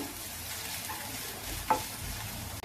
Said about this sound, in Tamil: புளி கலர்ல வர்ற வரைக்கும் நம்ம இதை வறுக்கணும்.